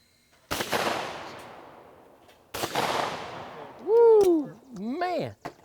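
Two loud shotgun blasts at a sporting clays course, each a sharp crack with a long decaying echo, about two seconds apart; a person then whoops and talks.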